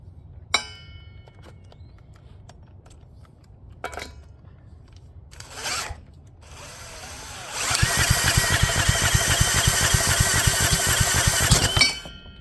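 A small single-cylinder Kawasaki motorcycle engine, unrun for 10 years, cranks and catches around the midpoint, settling into a loud, rapid, steady chugging idle after a few scattered clicks and clanks.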